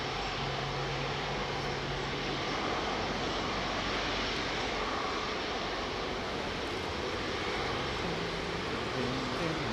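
An Iberia airliner on Heathrow runway 09R roars steadily for the whole stretch, a loud, broad engine rumble heard close up outdoors with no break.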